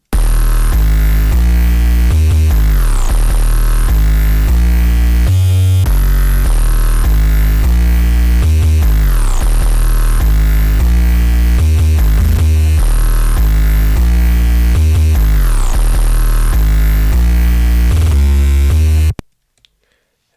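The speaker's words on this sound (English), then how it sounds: "And the final 808 plays during the verse and sounds like this." A long, distorted 808 bass line for a verse, made in FL Studio, plays loud and buzzy with sliding pitch glides in a repeating pattern for about nineteen seconds before cutting off.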